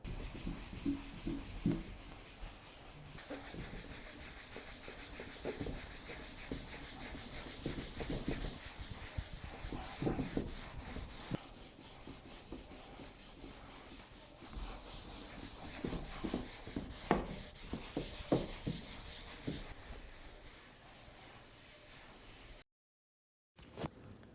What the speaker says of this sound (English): Now we're going to buff off all the excess oil.